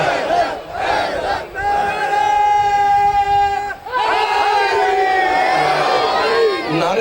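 A large crowd at a Shia majlis during a Muharram mourning gathering in an imambargah roars slogans back in unison, loud, sustained shouted responses with brief pauses between bursts, and a voice leading over the PA.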